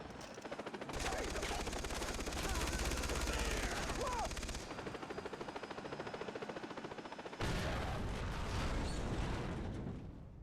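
Sustained automatic gunfire in Far Cry 3: long rapid bursts of shots roar continuously, briefly easing midway before surging again, with explosive rumble underneath.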